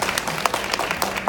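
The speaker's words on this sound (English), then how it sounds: "So please give her a round of applause." Audience at a film festival panel clapping together, a dense, steady patter of many hands through the whole short stretch, moderately loud and indoors.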